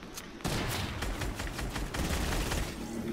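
Enemy gunfire in a French-language online shooter game mode, a dense rattling fusillade of shots that starts abruptly and continues loud and close, with no talking.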